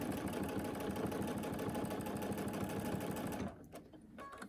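A sewing machine stitches a quilt with a fast, steady mechanical whir that runs evenly, then stops abruptly near the end, leaving a few faint clicks.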